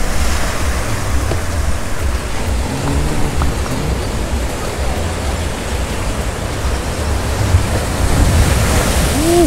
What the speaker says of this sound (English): Look at them waves hit.